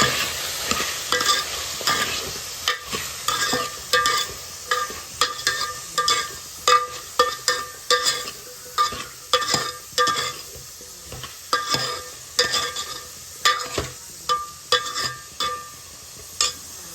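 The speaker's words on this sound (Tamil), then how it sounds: "தக்காளி வெங்காயம் நல்லா பரவணும், அந்த அளவுக்கு நல்லா கிண்டி விட்டுருங்க." Tomato and onion stirred in a hot pan for radish sambar: a steady run of rhythmic spatula scrapes over a soft frying sizzle, close up, with no talking.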